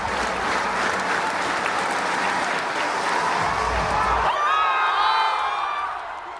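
A home crowd in Sweden roars with sustained applause and cheering after Mondo Duplantis clears a pole vault world record, a dense far-off wash of clapping and whoops that fades slightly near the end.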